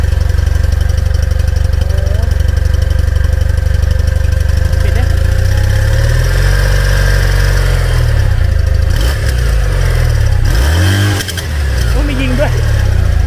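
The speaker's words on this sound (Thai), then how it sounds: "เดี๋ยวจะให้ฟังเสียงท่อของเจ้าอันนี้ท่อเดิมนะ" A Kawasaki W800 motorcycle with its stock factory exhaust runs steadily close by, idling with a low rumble and blipping the throttle a few times, while a person talks over it.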